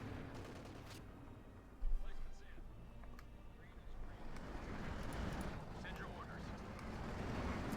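Panther tank guns fire in a Company of Heroes 2 match, with a sharp cannon blast and scattered distant battle bursts under steady commentary talk.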